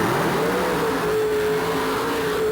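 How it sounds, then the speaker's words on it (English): A monster truck's supercharged 466 cubic inch Chevy Big Block running on alcohol, with a 2-speed Powerglide transmission, revs loud and close in a sustained, steady roar with a slight rise in pitch, alone without talk. "a supercharged 466 cubic inch Chevy Big Block on alcohol, 2-speed power glide transmission"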